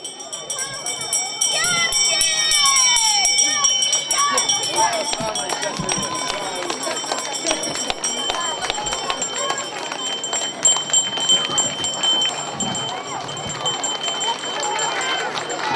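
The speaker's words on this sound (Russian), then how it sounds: "Финальный звонок школы номер 1" First-graders ring a school bell at a school's final bell ceremony, with repeated ringing over a bustling crowd and footsteps, while people speak throughout.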